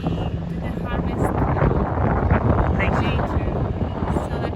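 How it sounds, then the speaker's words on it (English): Strong wind sweeps through a Santorini vineyard and buffets the microphone in a loud, continuous roar that rises and falls in gusts. "we're in a very windy climate, as we can see today"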